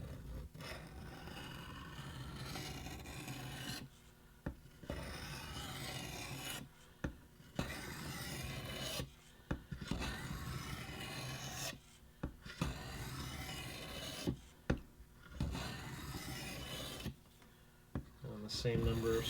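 A knife blade drawn repeatedly across a stone on a guided sharpening system, giving long steady rasping strokes in a regular rhythm with short pauses between them, close and clear.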